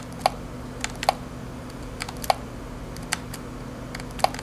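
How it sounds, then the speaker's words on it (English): A Kodak DC220 Zoom digital camera gives short menu click and beep sounds, scattered irregular ticks about once a second over a low electrical hum, faint and close. "it does play sounds as you go through the menu"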